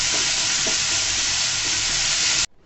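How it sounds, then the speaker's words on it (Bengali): Chopped pennywort leaves fry in hot oil, a loud dense sizzle close by with faint stirring underneath, cutting off abruptly near the end; no talk. "দিয়ে থানকুনি পাতাটাকেও আমি ভেজে নিব।"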